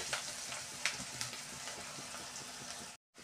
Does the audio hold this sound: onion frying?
yes